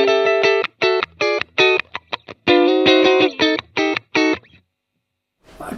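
A clean electric guitar tone played through a Positive Grid Spark amp with the treble raised plays a funky run of short, choppy chord stabs in a steady rhythm, then stops, leaving near silence.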